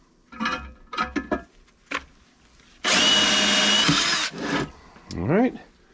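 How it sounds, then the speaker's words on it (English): A power drill bores holes for a Jeep Cherokee skid plate, one loud sustained whirring burst of a little over a second, between short clanks and handling noises and a brief rising motor whine at the end. "Let's drill out the hole."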